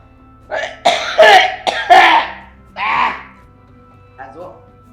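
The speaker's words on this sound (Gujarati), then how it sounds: "આ જો આ ખાંસી બહુ થઈ ગઈ છે." Several harsh coughs and throat clearings in quick succession, close and loud, then a fainter rasp at the end, set in a Gujarati family drama scene.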